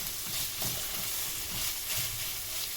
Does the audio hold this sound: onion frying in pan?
yes